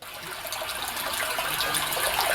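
Stream water rushes steadily near a weir, a continuous, moderately loud gushing flow with no voices.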